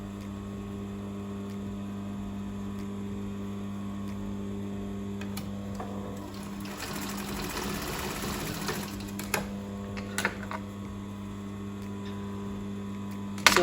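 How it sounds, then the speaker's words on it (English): A sewing machine stitches fabric for a gathered top and dress. Its steady motor hum runs throughout and builds into a louder, fast whirring stretch of stitching midway, with small clicks near the end. "But this time I'm stitching it because I want to have a good finishing."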